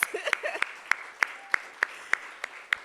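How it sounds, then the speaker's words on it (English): Applause at an awards event in the form of sharp, evenly spaced claps, about ten in a steady rhythm, sounding close and fairly quiet. "a round of applause"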